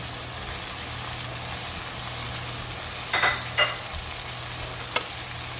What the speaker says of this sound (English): we are going to fry this for at least 5 to 10 minutes until little bit less than medium heat